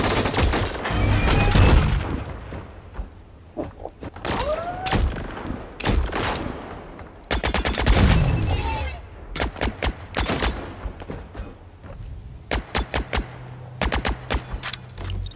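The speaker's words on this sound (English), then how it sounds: "I could shoot the guns." Guns fire repeatedly in the video game The Signal From Tölva, with rapid bursts and single loud shots scattered across the stretch, some clustered into quick volleys, others spaced apart over a low background hum.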